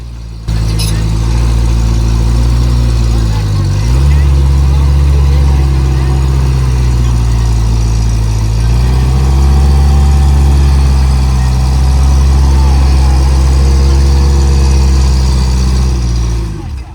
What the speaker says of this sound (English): had it not been for my engine running poorly here